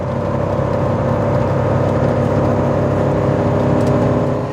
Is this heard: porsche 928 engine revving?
yes